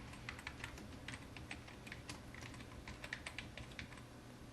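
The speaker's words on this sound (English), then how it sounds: "I'll type something in here." Keys clatter on a computer keyboard in quick, uneven bursts of typing, fairly close and alone over a low steady room hum.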